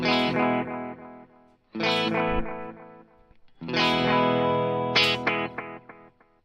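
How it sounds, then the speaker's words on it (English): Electric guitar through a Flower Pedals Dahlia dual analog delay pedal, strummed chords ringing out with trailing echo repeats, in three phrases separated by short gaps. "this is kind of the basic sound that you can get, the basic delay sound you can get out of the Dahlia"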